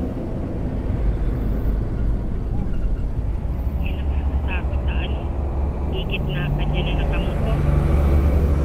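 Heavy trucks rumble past on a highway beside a moving Yamaha NMAX v2 scooter, a loud continuous low drone of engines and wind with a few brief higher squeals from passing vehicles.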